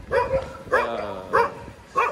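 A dog in a street in Palmeira barks four times in quick, uneven succession, close and fairly loud, with a yappy, slightly whiny tone.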